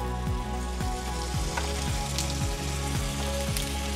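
Cumin seeds and spices sizzle in hot oil in a pan for pav bhaji, a steady crackling fry with a soft rhythmic scrape of stirring repeating about every half second.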